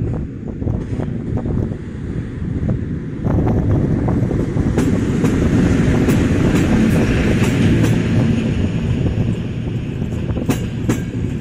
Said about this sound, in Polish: przy peronie drugim przejedzie pociąg bez zatrzymania